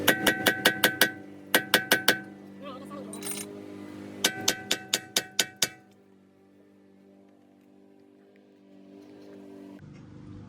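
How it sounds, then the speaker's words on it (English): Sharp metallic hammer strikes on a punch against suspension parts of a 2010–2012 Nissan Altima come in quick bursts of five or six, ringing against metal, then give way to quieter background noise. "I'm using a punch to do this rather than just smack the side with a hammer."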